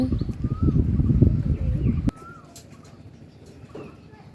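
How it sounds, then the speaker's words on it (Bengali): Pet pigeons feeding on a sunny rooftop give soft, intermittent coos. A loud rumbling, rustling noise covers the first half, then drops away to leave quieter calls. "এই তো মাসাল্লাহ আমার কবুতরগুলো খাচ্ছে"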